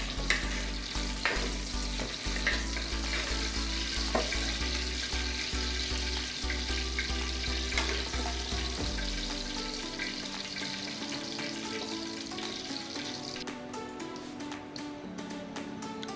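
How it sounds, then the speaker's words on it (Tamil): Brinjal sautés in a pan for a South Indian kara kulambu, a continuous close sizzle with stirring clatter, then a burst of running tap water near the end. "கத்திரிக்காய் நல்லா வதங்கிடுச்சு"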